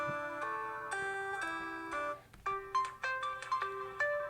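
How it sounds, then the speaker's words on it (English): A bright OnePlus Watch 2 alarm ringtone melody of chiming beeps, a repeating pattern of short tones, clear and close with no talking. "you can see a list of ringtones you can choose from"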